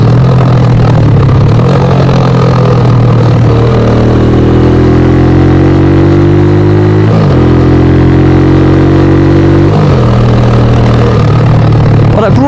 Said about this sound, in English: the loudest bike I own, so yeah, gets lots of looks whenever you go anywhere